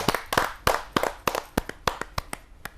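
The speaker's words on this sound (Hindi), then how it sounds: "जोरदार ताली के साथ हम उनका स्वागत करते हैं।" A sparse audience at a Hindi kavi sammelan poetry gathering welcomes the Urdu poet Sonam Aks from Panipat with close, loud, uneven hand claps that thin out and slow toward the end.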